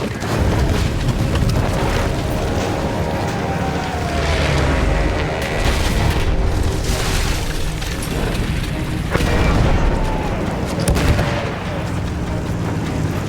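Booming artillery fire in the World War I shooter Battlefield 1, with repeated heavy blasts under a dense, continuous wash of battle noise, loud throughout.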